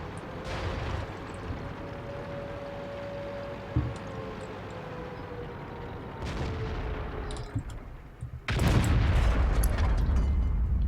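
A tank gun fires in World of Tanks, a loud broadband boom near the end that holds on as a rumbling tail, with an earlier shot-like burst midway over steady engine drone.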